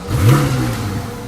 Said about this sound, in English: The engine fires with a guttural roar